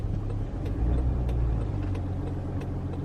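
A van's engine revs low and steady while the van sits stuck in snow. The rumble is moderate and continuous, with a few faint ticks, and no one speaks.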